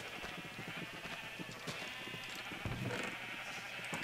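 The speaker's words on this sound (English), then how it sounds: "So I've had this green sheep in here since a while now." Sheep bleating in the Minecraft video game, a few short, faint bleats over a constant low background hum, without any talking.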